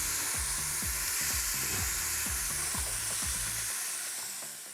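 Poke bowl sauce with ginger and garlic sizzles steadily in a hot pan for a plant-based dinner, with loud repeated low knocks of stirring against the pan that stop near the end as the sizzle continues.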